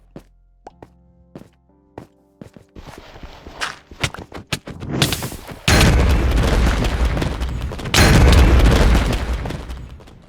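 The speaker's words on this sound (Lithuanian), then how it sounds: "Kodėl tu viską pradėjai bombarduoti?" Video-game bombing in a hide-and-seek match: scattered soft thuds and pops build into loud, sustained explosion roars, the two biggest blasts arriving near the end and lingering.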